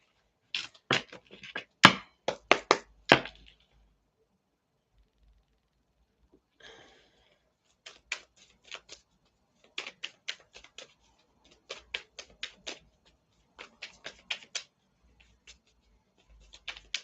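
A deck of tarot cards is shuffled up close: clusters of quick, crisp papery riffles and flicks arriving in short bursts, separated by near-silent pauses.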